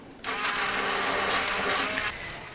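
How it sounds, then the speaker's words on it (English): A hand blender whirs on abruptly, pureeing butter chicken sauce, and runs at a steady high-pitched buzz for about two seconds before cutting off, loud and close. "Take a hand blender and puree it until completely smooth."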